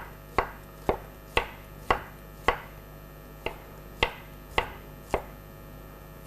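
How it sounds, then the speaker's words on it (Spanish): A knife chops an onion into julienne strips on a board, about a dozen crisp, evenly spaced strokes, close and distinct, with no talking. "vamos a cortar una cebolla como esta, con esto tengo más que suficiente, en juliana"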